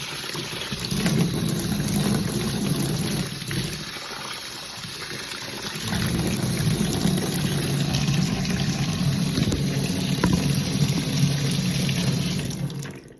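Tap water runs steadily onto a cadet beret to dampen the felt. A continuous close splashing flow eases briefly partway through, then resumes at full strength.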